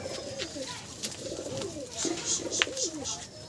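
Madrasi racing pigeons coo in repeated soft, throaty rolling phrases nearby, with faint chirps and light rustling in the background.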